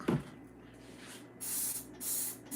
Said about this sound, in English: It's the Dawn spray.